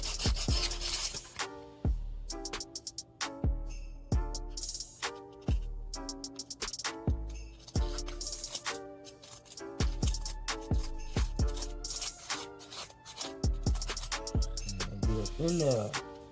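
Coarse sandpaper, around 32 grit, rubbed by hand on a pocket bike part: rhythmic back-and-forth scraping strokes, close and fairly loud, each stroke starting with a sharp attack, steady pace throughout.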